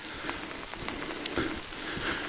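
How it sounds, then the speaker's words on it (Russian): Heavy rain pouring down in a forest, a steady dense patter and hiss of drops striking leaves and surfaces close by, with no voices over it. "Прикинь, как льет дождь"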